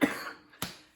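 Two coughs from a sick person, a harsh close burst at the start fading out, then a second sharper cough after a short pause, with no talking.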